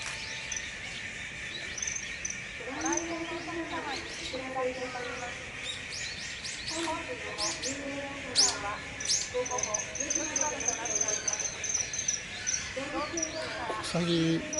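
A common kingfisher gives repeated sharp, high chirping calls in scattered bursts during a female courtship display, fairly faint against outdoor ambience, while people talk quietly nearby.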